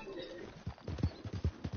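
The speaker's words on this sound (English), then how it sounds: "Get on back of my horse, there's no point running." Horse hooves clip-clopping in the video game Red Dead Redemption 2, a quick run of soft, evenly spaced beats under a faint talking voice.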